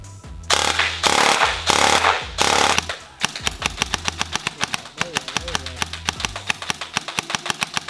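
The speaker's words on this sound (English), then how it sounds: "let's send this one through the chrono" An ARP airsoft rifle with a DSG gearbox fires through a chronograph: several loud, buzzing full-auto bursts, then a fast, even run of sharp mechanical shots.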